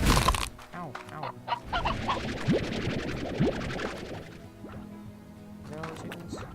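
Chickens in the video game Slime Rancher cluck softly and irregularly under a busy game soundscape, with a player talking over the top at moderate volume.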